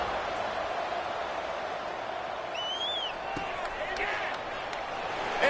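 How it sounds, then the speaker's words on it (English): Football stadium crowd at an FIU versus UTEP game buzzing after a score, a steady, dense roar of many voices held at an even level throughout, with a few faint whistles and claps scattered over the top. "this crowd is buzzing after that last score"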